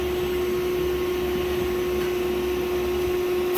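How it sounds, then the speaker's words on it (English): A vacuum cleaner runs loud and steady, a constant whining drone with broad airy rush and no breaks. "we wired in an outlet as well over to the vacuum, which we can now just turn on straight from there"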